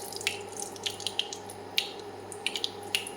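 Small mustard seeds crackle and pop in hot oil, sharp irregular spits over a steady sizzling hiss, close up and fairly quiet.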